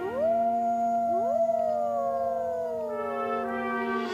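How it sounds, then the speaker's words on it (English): Several wolves howl together in long, sliding, overlapping tones that rise and slowly fall, steady and moderately distant, with no voices. "and occasionally wolves howled"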